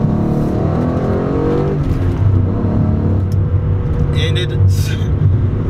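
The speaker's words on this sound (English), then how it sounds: "Spun the tires a little bit, actually all the way through first gear right there." Ford Mustang accelerating hard through first gear, a loud, close engine roar climbing steadily in pitch with tires spinning, as someone speaks over it from inside the car.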